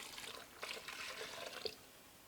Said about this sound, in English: Then we're going to add in the rest of our broth here.